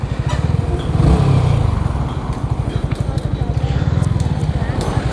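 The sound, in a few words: Yamaha R15 V3 motorcycle engine started and running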